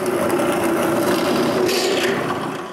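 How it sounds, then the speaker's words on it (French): A drill press bores a series of holes in wood for a wooden band saw, a steady close grinding drone with a faint hum underneath and a brief brighter scrape near the end. "je fais ça avec une série de trous à perceuse à colonne"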